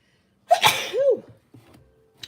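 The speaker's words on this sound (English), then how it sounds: "Oh, I gotta sneeze." A single sharp sneeze bursts out up close, followed by a brief quiet breathy sound.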